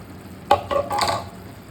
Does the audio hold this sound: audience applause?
no